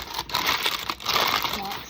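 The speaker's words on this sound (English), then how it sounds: "I've got parchment paper in it." Parchment paper crinkles and rustles as it is pressed into a baking pan during sourdough bread prep, a close, loud crackling over two seconds with a brief pause in the middle.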